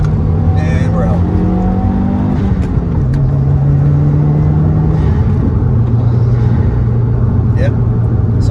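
A Subaru WRX driving and accelerating, its engine droning loud and close inside the cabin as the tone climbs, drops at a gear change and climbs again, with a person talking over it.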